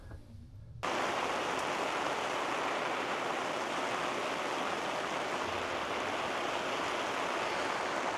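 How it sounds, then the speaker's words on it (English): Steady heavy rain pours down at a campsite near Apache Lake, a dense, even hiss that starts abruptly after a quiet moment and continues without letting up. "Certainly is raining now."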